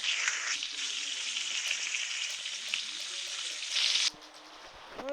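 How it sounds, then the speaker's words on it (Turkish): Sandwich cooking in a Roblox video game, a steady bright frying sizzle held for about four seconds before cutting off abruptly, with no talk. "Burada da yemek pişiriyorum. Bir tane pişireyim sandviç yapayım."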